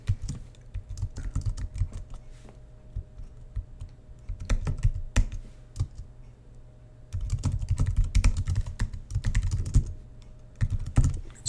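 Close, rapid typing on a computer keyboard, with dense runs of keystrokes broken by brief pauses, loud and alone over a faint steady hum.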